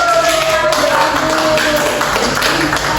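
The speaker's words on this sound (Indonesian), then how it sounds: "Beri tepuk tangan sekali lagi untuk Ismail." Classmates applaud a student in a school classroom, a steady patter of many hands clapping at close range throughout, with a faint voice briefly audible underneath.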